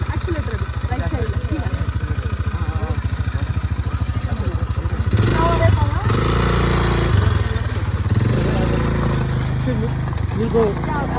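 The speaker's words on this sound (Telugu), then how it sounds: "it's time for quad bike ATV" A quad bike ATV engine at a Bengaluru adventure resort idles with a steady, close mechanical throb, then revs louder and rougher partway through before settling back. Voices can be heard around it.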